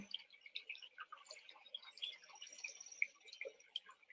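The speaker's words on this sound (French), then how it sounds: "Vous écoutez ces petits oiseaux" Small birds chirp and tweet in quick, faint, scattered calls over the quiet trickle of a pure spring near a beach.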